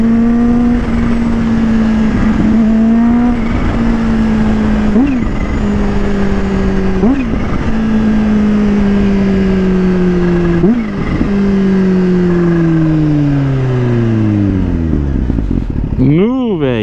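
A Kawasaki Ninja H2 motorcycle accelerates hard and loud from onboard, its engine whine climbing through several gears with brief dips at each shift before a final rev near the end.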